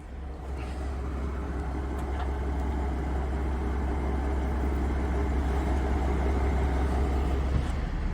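A Chevrolet Malibu bought cheaply at a salvage auction idles steadily with a low, even engine rumble, held close and constant throughout with no talk.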